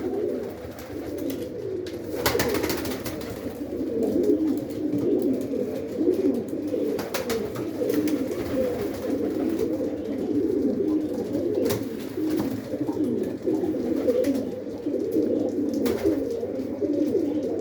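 Pigeons coo continuously in a loft during breeding season, a low, throaty murmur layered from several birds, with occasional wing flaps and knocks.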